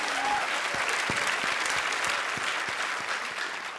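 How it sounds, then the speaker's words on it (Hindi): A studio audience at a televised comedy show claps together in sustained, dense applause at a steady level from start to finish, with no one speaking over it. "एक बार तालियां।"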